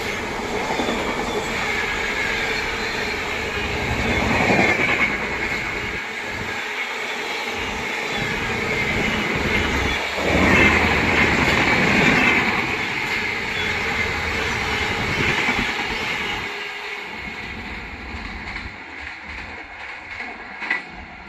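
The Barauni Clone Humsafar Express, numbered 02563, rumbles past while overtaking another train, a loud, continuous roar of rail cars with clattering wheels and squealing that swells and then fades toward the end.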